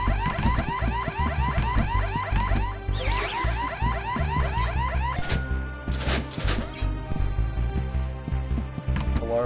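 A repeating electronic alarm wails loud and steady in the video game Horace, its rising warble looping over game music with a few sharp crash-like bursts breaking through.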